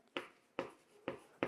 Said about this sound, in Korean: 그럼 제가 단어를 한번 써볼게요.